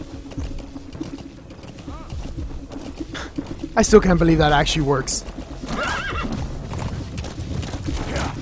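A horse whinnies loudly in the middle in the video game Metal Gear Solid V: The Phantom Pain, with hoof clip-clop and game ambience around it while a person talks over the sounds.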